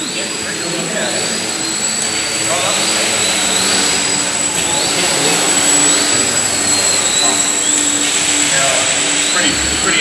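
A small indoor model airplane flies slowly inverted overhead, its high-pitched electric motor whining steadily with rising and falling sweeps as it passes back and forth, carried over a constant room hum.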